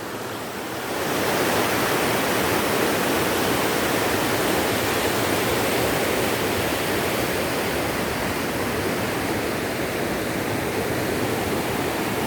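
Steady, loud roar of the Rio Bonito waterfall and river at Barra do Rio Bonito, a broad, unbroken rush of falling water that swells in after a brief quieter second and then holds close and constant.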